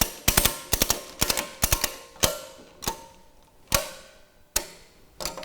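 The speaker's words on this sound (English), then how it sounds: "we can then tighten the ratchet" Ratchet strap cinched around a gas cylinder on a cylinder lifter, a series of sharp clicking ratchet strokes in uneven bursts, close and loud, with brief pauses between pulls.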